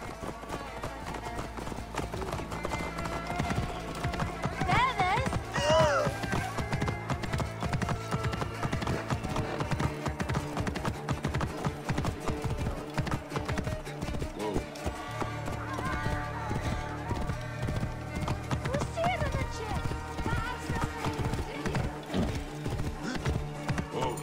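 Rhythmic horse hoofbeats clatter along with a horse whinnying, set over a busy Assassin's Creed Origins game soundscape with music and effects.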